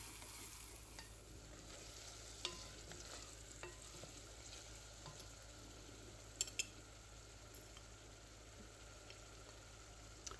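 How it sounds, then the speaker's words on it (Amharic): Onions sautéing quietly in a pan on the stove, a faint steady sizzle with a low hum beneath and a few soft clicks of a utensil against the pan. "ከዛ ከጎን ያው ሽንኩርቴን እያቁላላሁኝ ነው"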